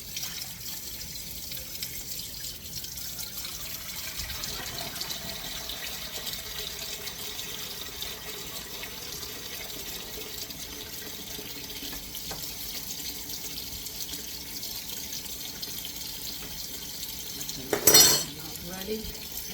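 A kitchen tap runs steadily with cold water for peeling tomatoes, a constant rushing hiss that lasts throughout, broken near the end by a brief sharp clatter of dishes or utensils.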